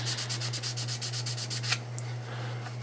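Wet sanding by hand with a worn 220-grit sanding sponge, about a dozen quick, even back-and-forth rasping strokes close up over a steady low hum, then the strokes stop.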